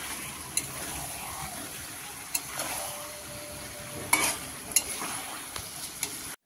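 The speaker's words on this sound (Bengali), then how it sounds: "দিয়ে এবার মাংসটাকে কষাবো" Mutton sautés in a pan with Kashmiri red chili powder, giving a continuous close sizzle and frying hiss, broken by a few sharp scrapes and knocks of a spoon stirring the meat.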